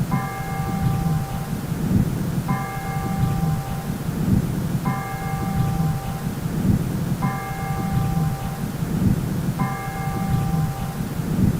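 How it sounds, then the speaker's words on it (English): Bells toll in a slow regular pattern, five evenly spaced strikes over a low rumbling wash of rain or thunder-like noise. "5 bells also rang."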